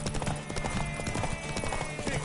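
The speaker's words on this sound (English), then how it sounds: "Want that horse, don't ya?" Horse hooves gallop in The Witcher 3, a fast, steady clip-clop rhythm that stays loud and close throughout, with voices calling out over it.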